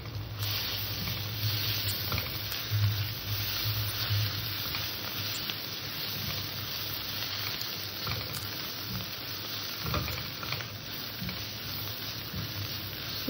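Ginger-garlic paste with a little ground coriander and cumin frying in a pan and being stirred, a steady close sizzle with occasional scraping clinks of the spoon throughout, no talking.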